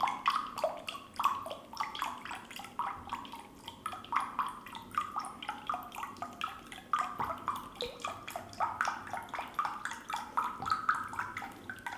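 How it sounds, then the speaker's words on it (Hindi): Water from drink ingredients is squeezed out by hand, producing a continuous run of drips and splashes that patter steadily close by, with no talking. "ये पानी निकल रहा है इसमें से।"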